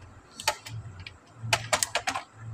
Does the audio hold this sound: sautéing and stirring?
no